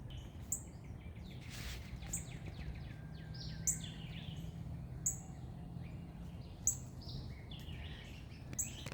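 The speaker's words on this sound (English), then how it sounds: "It's a red bird." A cardinal sings outdoors in a tree, repeating short clear whistled phrases at a moderate distance over a low steady background hum, with no talking.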